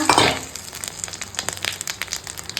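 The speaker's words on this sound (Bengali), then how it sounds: "ওই মুড়ো ভাজা তেলেই এখন দিয়ে দিচ্ছি জিরে ফোড়ন আর দিয়ে দিচ্ছি তেজপাতা শুকনো লঙ্কা" Cumin seeds, bay leaf and dry red chili sizzle as a tempering in hot oil left from frying a katla fish head, a loud initial crackling burst settling into rapid popping spits.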